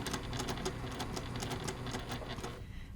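Sewing machine top stitching a quilt binding on a table topper, a close and steady mechanical hum with rapid ticking needle strokes that tapers slightly at the end.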